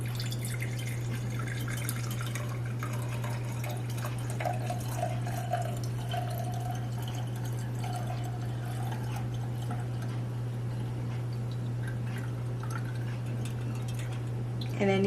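Used frying oil poured through a strainer while making alcapurrias, a soft trickling, dripping pour that continues steadily at moderate level beneath a constant low electrical hum.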